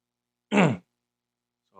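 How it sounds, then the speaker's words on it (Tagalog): A single short, breathy cough, close and fairly loud, followed by silence. "Ubo tayo."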